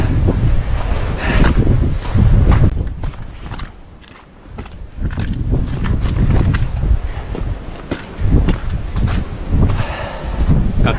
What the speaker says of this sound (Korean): 바람이 엄청납니다.